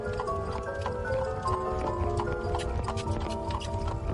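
Hooves clip-clop in a steady, irregular rhythm on a hard surface, with a faint jingle of harness and a low background hum.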